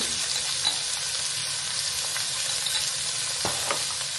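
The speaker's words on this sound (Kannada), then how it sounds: "ಇದನ್ನ ಚೆನ್ನಾಗಿ ಹುರ್ಕೊಳ್ಳೋಣ" Onions fry in a hot kadai with turmeric, giving a constant close sizzle with occasional scrapes and clinks as they are stirred.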